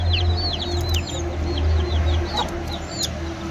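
Young chicken chicks cheep and cluck in a rapid run of high, close peeps over a steady low hum of the rearing shed.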